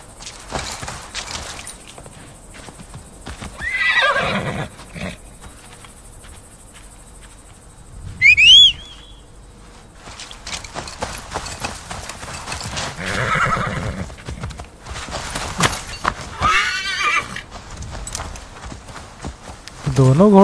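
Horses in the Assassin's Creed Valhalla video game, with rhythmic hoof clip-clops, a sharp neigh partway through and a chirping insect ambience, while someone talks over the game sounds at intervals.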